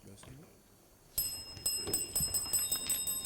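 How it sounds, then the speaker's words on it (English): A bright bell rings repeatedly with sustained metallic tones to mark the end of a high school quiz match, starting suddenly after a quiet stretch of faint talk and sounding fairly close. "And that's the bell."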